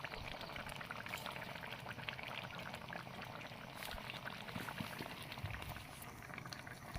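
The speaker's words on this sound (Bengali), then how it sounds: "ঝোল দিয়ে দিচ্ছি" Broth is poured into a simmering fish and potato curry, giving a soft, continuous bubbling and liquid rush at low level throughout, with no talking.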